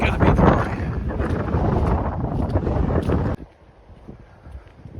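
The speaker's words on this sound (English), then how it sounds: "Getting windy as we get higher" Strong wind on hilly heathland buffets a microphone in loud, rumbling gusts that cut off abruptly, leaving quieter outdoor background.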